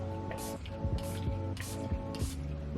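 Four quick, evenly spaced hissing spritzes of Milani Make It Last sunscreen setting spray mist across a face, close-up and soft, with faint pump clicks between bursts.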